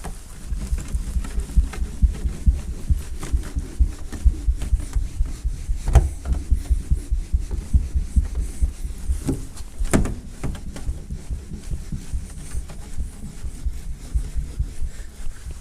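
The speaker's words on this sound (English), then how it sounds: "All those little flick noises you're hearing are little bits of tar" Close-up squeaky rubbing of a clay bar dragged back and forth over rough paint on the lower door of a 20-year-old car, with small scratchy flicks from bits of tar and a few sharper ticks.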